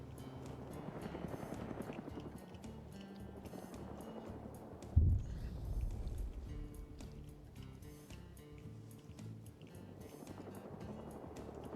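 Helicopter in a military video game, a steady rotor drone with rapid blade chop running throughout, with a heavier thump near the middle and no speech.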